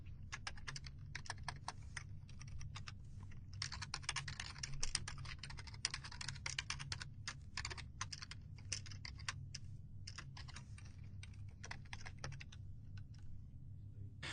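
Rapid, steady typing on a computer keyboard while entering JavaScript code, with dense clicking keystrokes running through the whole stretch at a close, even level and no talking.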